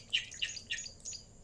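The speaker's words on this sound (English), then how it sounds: "there is a very busy tawny flank prunier. Yes, you're quite right. That's the bird that's chirping." Several tawny-flanked prinias chirp at a busy African waterhole, bright repeated tweets in short bursts, close and fairly clear over a quiet background.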